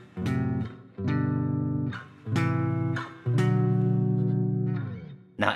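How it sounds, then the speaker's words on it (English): Several low, heavy chords ring on the 7th string of a seven-string guitar. About four strummed strikes sustain and then fade, each clearly separated. They are played alone at moderate volume with no talking. "on the 7th string it gets really low and it'll sound like this"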